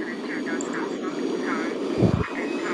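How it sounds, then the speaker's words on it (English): Cartoon airplane flying in an animation, a steady engine drone running under a voice throughout, with a brief louder burst near the end. "She flies in an airplane."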